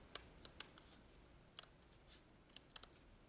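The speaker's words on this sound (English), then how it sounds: "I'll just trim these off" Scissors trimming paper for a card: faint, quiet snips in small clusters, a few crisp cuts spaced across a few seconds in a near-silent room.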